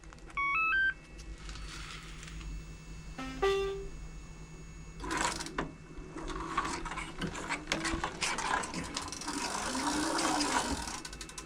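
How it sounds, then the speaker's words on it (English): Ratchet in the drive of a homemade two-wheel-drive big-wheel dirt bike, clicking as the throttle is twisted, mixed with beeping controller tones and whirring mechanical noise, close by and fairly loud. "That way it won't go backwards, it just ratchets"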